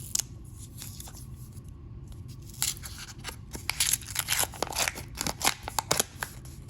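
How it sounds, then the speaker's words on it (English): Paper coin roll of half dollars being torn and cut open, a quiet crinkling build-up giving way to a run of sharp, irregular tearing and crunching bursts near the microphone, with no talking. "I struggled to get this roll open"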